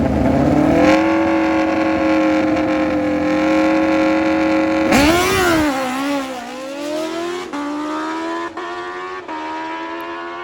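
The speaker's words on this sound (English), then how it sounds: "Can't get enough of the Bob Burt burnouts" A drag racing motorcycle does a burnout at the drag strip, its engine held at a loud, steady high rev with tire squeal, then a sharp rev change and a falling, wavering pitch as it eases off.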